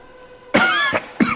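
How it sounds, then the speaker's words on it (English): A few sharp coughs from a person in the horror video game The Outlast Trials: a long first burst, then two shorter hacks close together, loud and near. "Oh my god, I'm coughing."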